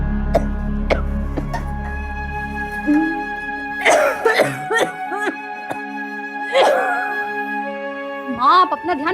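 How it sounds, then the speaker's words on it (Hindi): A woman coughing indoors, several separate harsh coughs in short bursts spaced a couple of seconds apart, close to the microphone over a low background hum. "कितनी खांसी हो रही है आपको?"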